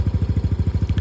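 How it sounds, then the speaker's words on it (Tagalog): A Yamaha Aerox scooter engine idles after a camshaft upgrade, a close, loud, even putter of rapid regular pulses with no talk. "Pakinggan nyo yung tunog ng makina niya ngayon."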